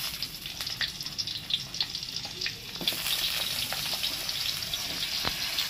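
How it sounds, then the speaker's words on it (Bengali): Thick eggplant pieces frying in oil in a pan, a loud continuous sizzle with sharp crackles and pops, growing denser and louder partway through. "দেখো পুরো ভাজা হয়ে গেছে বেগুনগুলো"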